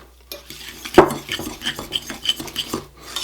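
A spoon scrapes and clinks against a bowl, working ricotta cheese and egg into a thick filling, with close, irregular stirring and one sharper knock near the start.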